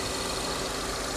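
A car engine idles with the bonnet open, a steady, even running note held close by for the whole moment with no talk over it.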